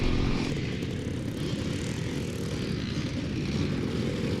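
A motocross bike engine drones steadily during a muddy race at Forestmill, Clackmannan, Scotland, in 2005. The tone is fairly faint and distant, with no talk.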